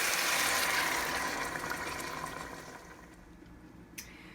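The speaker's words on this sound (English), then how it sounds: "Now we're going to pour in the stock or broth." Stock or broth poured into a pot of orzo with chicken and lemon, giving a steady liquid rush that is strongest at the start and slowly fades, with a small clink near the end and no talk.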